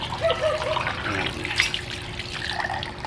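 Water pours into a fish bowl for pothos plants, a steady close trickle and splash with a faint tonal ring from the glass, continuing without talk.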